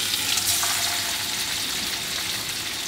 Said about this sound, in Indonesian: Oke, minyaknya udah panas, bisa lihat, dan mau langsung aku masukin buat salmonnya.